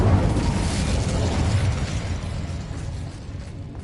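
Fire spells exploding in a wizard video game, a loud, rumbling roar of flame that sustains and slowly fades, with no talk over it.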